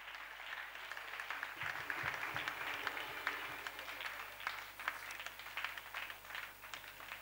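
A church congregation claps steadily and enthusiastically, a dense wash of hand claps filling the room with a little background voice beneath.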